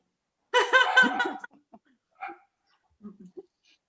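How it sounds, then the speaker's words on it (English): A dog gives a burst of loud, yelping barks up close, followed by a few softer, shorter yips and whimpers with pauses between them. "Because the dog is barking, I kept mute."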